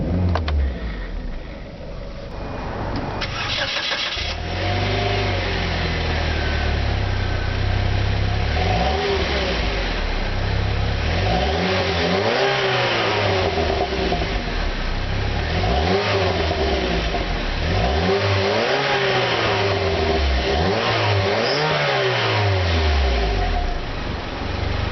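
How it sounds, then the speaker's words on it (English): A 2008 Saab 9-3 BioPower with a 1.8-litre turbocharged engine revs repeatedly, its pitch rising and falling in steady waves over a continuous low idle rumble, loud and close. "You can hear the car revving"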